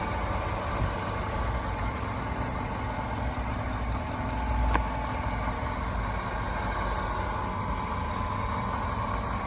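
A 2007 Chevy Avalanche Z71 idles steadily with an even, low engine drone. It sounds moderately distant and fairly quiet, with a brief faint knock midway.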